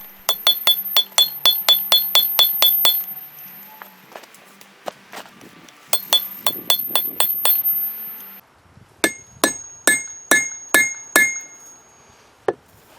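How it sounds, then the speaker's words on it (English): A slot punch struck with a hammer against an anvil while forging a tomahawk: a rapid run of ringing metallic blows in three bursts, loud and close, with no voices. "can feel it and hear it when it hits the anvil"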